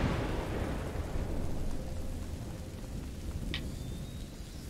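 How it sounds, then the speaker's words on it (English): Thunderstorm rain in A Plague Tale: Innocence, a steady hiss of rainfall with low rumbling underneath and one brief sharp crackle, continuing without a break. "Okay, and of course there's a thunderstorm."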